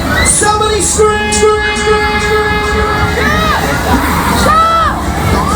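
Riders on the Air Raid fairground ride at Leeds Valentines Fair 2018 scream and shout as a crowd, loud rising and falling cries close by over the ride's mechanical rumble.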